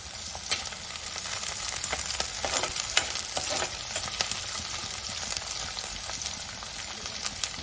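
Shallots and four chopped green chillies sauté in a pan for a Kerala fish curry, producing a continuous crackling sizzle with scattered light clinks and stirring scrapes, heard close and alone without speech.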